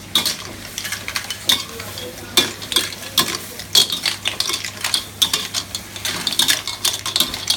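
Clams stir-frying over high heat in a Thai herbal sauce sizzle steadily while a utensil stirs and scrapes the pan, with sharp clinks of shells and metal in an irregular rhythm, close by.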